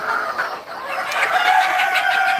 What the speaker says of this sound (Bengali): এ দেখেন সব মুরগি